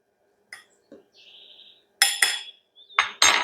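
Spoon clinking and scraping against a bowl of heat-puffed oatmeal being stirred, a few separate sharp contacts with short quiet gaps between them, close and clear with no talking.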